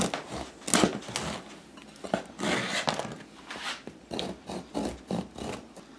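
A knife saws the crusts off sourdough bread slices, making repeated close, dry rasping strokes in an uneven rhythm with short pauses between cuts; nobody speaks.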